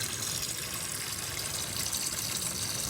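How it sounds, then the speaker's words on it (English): Water gushes into a container as it is refilled for watering cabbage scraps, a steady rushing splash lasting the whole moment without any talking. "So I'm going to refill this up, water the top a little bit"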